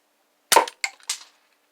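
A foam dart gun fires at a chess piece indoors: a sharp pop followed by two lighter clacking impacts about a quarter second apart, close and clear in otherwise silent surroundings.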